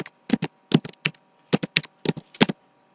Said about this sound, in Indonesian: Bisa kita ketikkan localhost